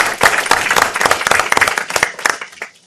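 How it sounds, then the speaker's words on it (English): A commission meeting audience breaks into applause: a fairly loud burst of distinct claps rising and falling in uneven waves, trailing off to a few scattered claps near the end. "Round of applause for that"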